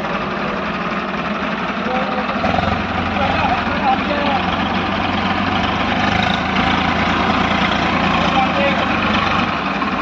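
Farmtrac 60 tractor engine straining as it pulls a 6-foot rotavator through a farm field, a steady loud diesel drone with rough knocking vibration running throughout.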